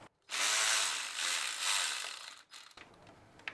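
A tool works a nut loose in the engine bay of a 2024 Chevrolet Colorado ZR2 with a 3.0 Duramax diesel, a close, sustained whir lasting about two seconds, then brief mechanical clicks.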